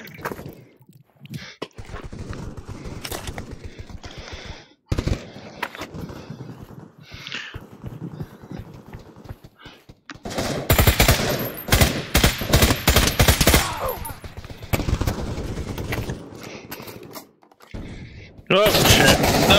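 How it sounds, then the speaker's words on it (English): Light machine gun fire in the VR shooter Pavlov VR, rapid bursts of loud automatic shots crackling repeatedly, densest in the second half and again at the very end, with a voice speaking between and under the bursts. "how do I reload the light machine gun?"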